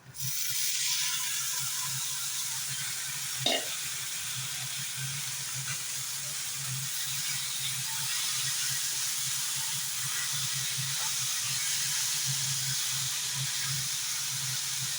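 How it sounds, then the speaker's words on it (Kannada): Pigeon peas and beans added to a hot pan for a bas sambar, a steady sizzling hiss that runs the whole time with one brief clatter near the start, no talking over it. "ಇದಕ್ಕಿವಾಗ ಎತ್ತಿಟ್ಟಿರೋ ಕಾಳು ಮತ್ತು ಬೀನ್ಸ್ನ ಹಾಕೋತಾ ಇದ್ದೀನಿ"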